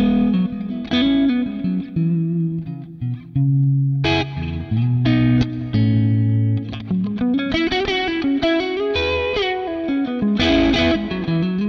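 Electric guitar played through a Kemper profiler with a chorus effect, shimmering chords and single notes ringing out loud and steady with a slightly distorted, swirling tone, no talking.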